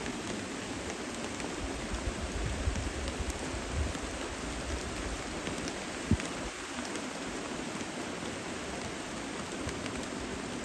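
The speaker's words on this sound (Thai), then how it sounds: "ตอนนี้เนี่ยฝนตกอย่างหนักหน่วง" Heavy rain pours down in a forest as a dense, steady hiss of drops, constant and fairly close, with no talking over it.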